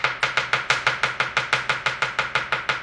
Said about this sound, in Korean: 심지어 형님이 다져버렸어